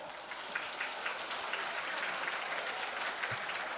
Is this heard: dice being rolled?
no